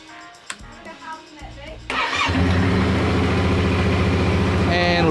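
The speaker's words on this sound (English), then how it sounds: "Start the bike." A motorcycle engine cranks and catches at about two seconds, then settles into a steady, loud idle close by after a few quiet clicks from the key being switched on; someone talks briefly before the start.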